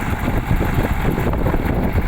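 A T-150 wheeled tractor pulling a Veles Agro disc harrow works a field for soybeans, its heavy diesel engine producing a steady, deep rumbling drone close by, with no one talking.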